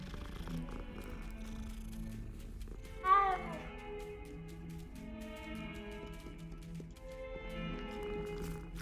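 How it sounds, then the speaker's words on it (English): Cats in the Hogwarts Legacy video game give a soft meow amid a low purring bed while being petted, with faint game music in the background, quiet and close. "Be here all day petting all you cats."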